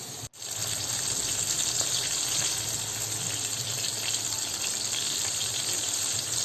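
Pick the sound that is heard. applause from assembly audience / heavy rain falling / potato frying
potato frying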